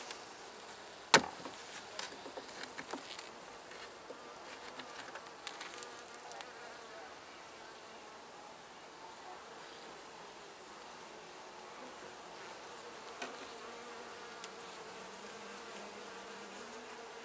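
Honeybees buzz steadily across a hive's frames in October as yellowjackets rob it, a soft continuous insect drone with a sharp click near the start and scattered light knocks from handling.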